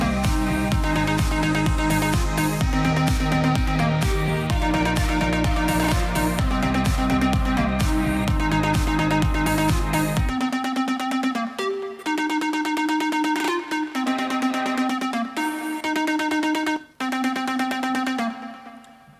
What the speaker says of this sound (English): So the drop of this song is going to sound like this.